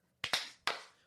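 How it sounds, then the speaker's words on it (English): Two sharp hand claps in quick succession followed by a third clap, loud and close with short reverberant tails, crowd-style clapping at a live comedy show with no talking over them. "That was horrible claps"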